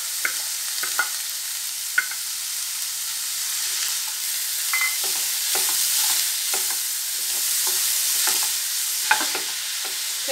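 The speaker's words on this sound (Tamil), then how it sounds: "வெங்காயம், பெரிய வெங்காயம் ஆட் பண்ணிக்கலாம்." Large onions fry in a pan for paneer samosa filling, a loud continuous sizzle overlaid with repeated scraping and clicking strokes of a spoon stirring them around.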